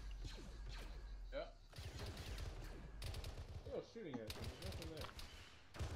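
Heavy suppressive gunfire in Arma 3, thumping bursts of automatic fire in several clusters at mid distance, with voices talking over the shooting.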